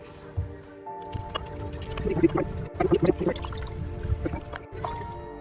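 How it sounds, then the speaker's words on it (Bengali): Tender green coconut water poured into a bowl for a coconut pudding, a close run of drips, splashes and gurgling liquid with small wet squishes, uneven and moderately loud. "ডাবের জলটা আমি এখানে দিয়ে দিচ্ছি"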